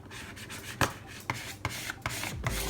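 A plastic card squeegees a vinyl decal sticker down onto a surface, giving close, quiet rubbing and scraping strokes with several brief sharper scrapes.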